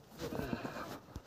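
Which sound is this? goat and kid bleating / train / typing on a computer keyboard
goat and kid bleating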